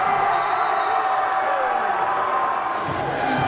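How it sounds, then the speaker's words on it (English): A Cougars home basketball crowd at a high school conference game reacts with a sustained, fairly loud murmur and scattered shouts, heard alone without clear voices over it. "The Cougar crowd shows their sympathy."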